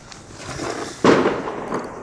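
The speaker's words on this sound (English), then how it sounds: "That was a gunshot." A single sharp gunshot cracks out in the middle, loud and sudden, followed by a brief echoing tail over rumbling background noise.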